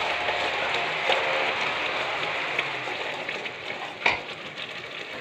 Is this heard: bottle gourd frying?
yes